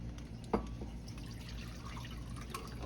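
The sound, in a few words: basting roasted duck by pouring fat over it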